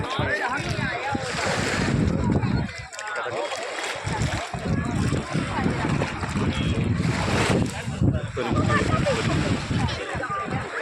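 Sea waves wash continuously onto the beach at Agni Theertham in Rameswaram, loud and near, with heavy wind buffeting the microphone and voices of people talking along the shore.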